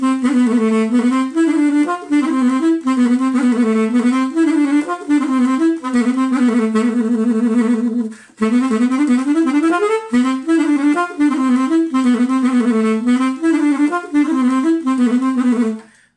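Instrumental intro of a song played at normal speed, a loud, busy run of rapid melodic notes over steady accompaniment, with one brief dip midway before the phrase repeats.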